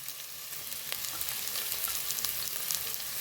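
Onion and curry leaves frying in hot oil for a Palakkad-style ash gourd chicken curry, a steady close sizzle with faint crackles running throughout, no talking.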